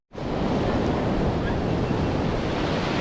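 Surf breaking over a sandbar along the Alabama Gulf Coast, a steady, loud wash of white water that roars continuously from start to finish, with some wind buffeting the microphone.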